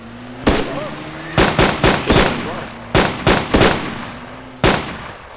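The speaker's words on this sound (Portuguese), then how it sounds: "os tiros tá pegando aqui" Gunfire in the survival video game DayZ Epoch: sharp, loud shots crack out singly and in quick bursts of two or three, close by, with players' voices speaking faintly between them.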